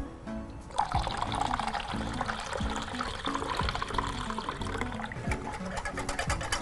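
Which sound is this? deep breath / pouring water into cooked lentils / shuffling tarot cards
pouring water into cooked lentils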